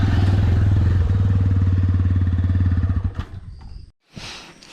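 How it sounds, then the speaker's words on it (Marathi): A motorcycle engine idles loud and close with a steady, throbbing low rumble before a road trip from Kolhapur to Raigad. After about three seconds it fades and cuts off, and a brief rustle follows. "आज तिच्यावरूनच आपण एक बाईक राईड करणार आहे."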